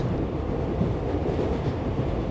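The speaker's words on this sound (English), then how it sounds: "The rhythmic sound of the train's wheels continue." Steady rumble of a moving train rolling along the rails, a continuous low, dense roar with faint wind noise and no distinct individual clacks, no voices.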